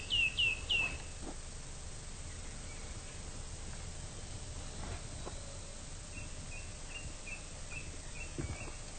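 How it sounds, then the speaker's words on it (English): Wild birds calling in woodland: a quick burst of high chirps opens, then faint, evenly spaced calls return later over a soft outdoor background, with no talking. "Now they're talking amongst themselves about whatever birds talk about."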